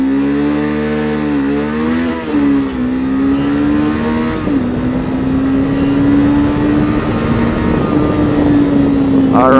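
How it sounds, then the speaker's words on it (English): A 2022 Kove 525X motorcycle launching and accelerating hard, its engine note sweeping up through the gears in a loud, close, sustained drone over about ten seconds, with no talking. "As I was launching the bike, I did a tiny wheelie"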